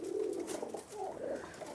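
Dubwale pigeons give soft, low cooing calls close by, a short murmuring burst with no talk over it.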